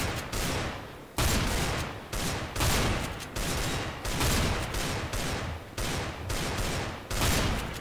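Nova shotgun blasts in a video game boom loudly and repeatedly at a steady pace of roughly one shot per second, each ending in a short decaying tail.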